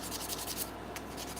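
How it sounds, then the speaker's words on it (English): Hand sanding on a pipe in a pipe-making workshop, a steady close rasping rub of abrasive strokes running continuously without a break. "Just trying to do some hand sanding."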